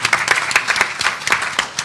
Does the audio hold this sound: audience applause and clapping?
yes